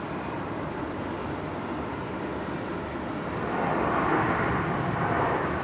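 Air Niugini airliner taxiing out at Brisbane Airport, a steady broadband jet rumble and whine that holds level at mid distance and swells a little louder toward the end, with no talk.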